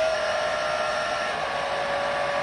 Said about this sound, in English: I'm just about to plug the hairdryer in. It's me mixed media hairdryer. It's quite noisy